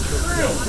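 Steam hisses steadily from a Walt Disney World steam locomotive, a broad close rushing wash with a voice speaking over it throughout the short burst.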